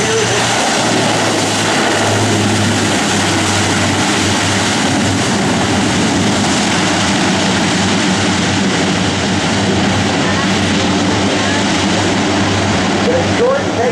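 A C-130J-30 Hercules at an air show open house roars on the runway as its propellers reverse thrust, a loud, steady, dense drone that holds for the whole stretch without a break.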